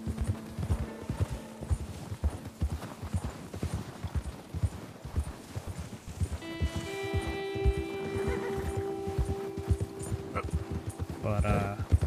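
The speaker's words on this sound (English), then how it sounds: "I just caught a fancy white horse and I'll take it into a stable" White Arabian horse in a video game, hooves clopping in a steady walking rhythm throughout, with a long whinnying neigh rising over the footsteps partway through and a person talking underneath.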